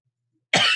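A voice imitates a sharp, polite throat-clearing ahem cough: one short, loud burst after silence, close to the mic.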